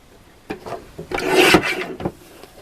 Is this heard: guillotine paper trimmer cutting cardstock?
yes